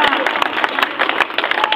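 A crowd at an outdoor political rally applauds to welcome a speaker to the stage, with brisk, steady clapping that is moderately loud and lasts only a moment.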